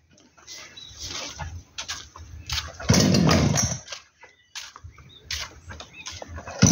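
Small garden power tool engine, such as a mower or hedge trimmer, being pull-started and failing to catch: repeated short sputtering bursts and one longer rough rattle outdoors, fairly close, with no talking.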